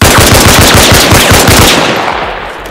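Rapid automatic gunfire in the Arma Reforger video game, a loud, steady burst of closely spaced shots lasting about two seconds before tailing off into a fading echo.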